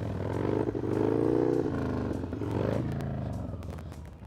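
A motorcycle engine revs and pulls during a wheelie practice run, rising and falling through throttle bursts with mechanical clatter, close and loud.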